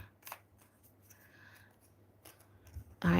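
A deck of cards is shuffled, with faint, scattered rustles and light snaps followed by a sudden louder riffling burst at the end.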